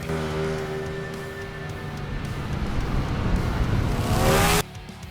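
Ducati Diavel V4 RS motorcycle doing a launch acceleration, its engine note rising steadily and loudly for several seconds before a sharp cut at the end.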